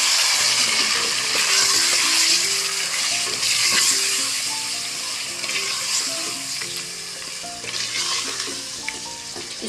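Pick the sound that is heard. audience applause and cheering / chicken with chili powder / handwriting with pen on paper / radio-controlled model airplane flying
chicken with chili powder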